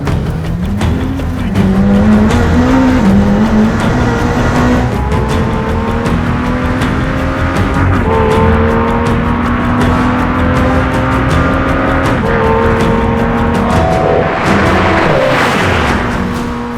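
A McLaren Senna engine roars loudly and continuously, revving up and down with a harsh, high-pitched mechanical whine as the car drives hard.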